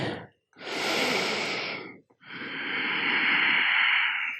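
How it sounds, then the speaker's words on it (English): A deep breath taken during a vinyasa yoga flow comes as a short intake, then a long, loud, airy exhale very close to the microphone, with no talking. "1 more big breath here."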